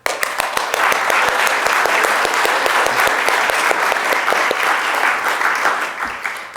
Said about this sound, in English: they'd appreciate a little thank you applause right now.